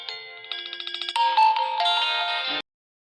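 Android phone ringtone playing loud and close, a bright electronic melody with a rapid repeated pulsing pattern that swells into sustained tones, then cuts off abruptly, followed by silence.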